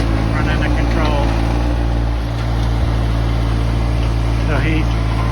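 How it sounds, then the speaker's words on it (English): A tractor drives a fence post hole auger. Its engine holds a steady, close, mid-pitched drone with faint shifts in load as it drills. "So he's drilling another hole."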